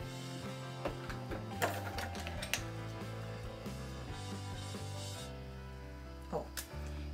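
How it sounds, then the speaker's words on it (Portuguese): A sewing machine stitches bias binding down onto a hygiene kit, running in short bursts of mechanical whirring with brief pauses between runs, close by, under background music and a voice talking. "E vamos passar a costurinha para poder prender ele."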